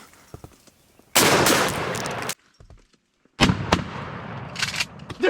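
Shotgun blasts fired at turkeys during a hunt outdoors, two loud booming shots with sharp attacks and trailing echoes, separated by a short quiet gap.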